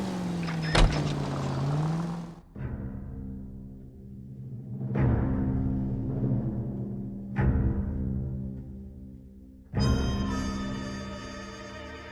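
A car driven in the Xbox 360 game LAN: engine hum shifting in pitch across several gear-like segments, close and steady, with a few abrupt cuts and no speech.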